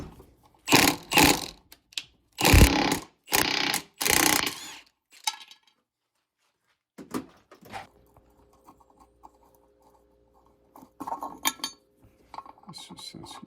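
Metal clanks and ratcheting clicks from a bearing part being clamped in a vise, loud bursts at the start, then quieter scattered knocks and taps with a faint hum near the end.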